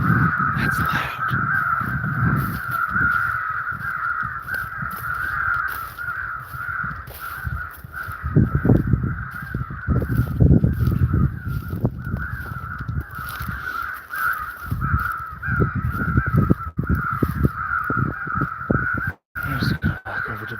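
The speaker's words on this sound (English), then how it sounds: "Crow fight." An electronic crow caller plays a loud, steady crow fight outdoors, with continuous overlapping cawing that runs throughout, and some louder rustle and handling noise partway through.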